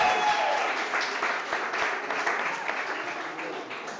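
An audience applauds at the start of a chef cooking contest, steady dense clapping that fades slightly over four seconds, with no talking.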